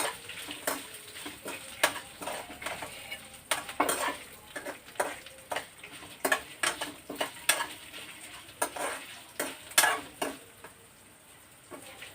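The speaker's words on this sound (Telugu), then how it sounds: "తర్వాత బూడిద గుమ్మడికాయ ముక్కలు ఫ్రై చేసుకుందాం." Ash gourd pieces fry in a pan with a low sizzle while a utensil stirs and scrapes, making repeated sharp clinks at an uneven rhythm.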